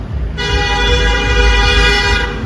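A loud, sustained car horn blares for about two seconds over low road rumble, starting abruptly and holding steady.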